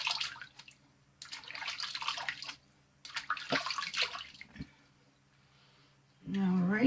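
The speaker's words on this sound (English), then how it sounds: "I'm going to rinse" A vintage 1970 Lady Gillette razor is rinsed under running water, with splashing bursts and drips in intermittent spells, close and moderately loud, ending in a steadier flow.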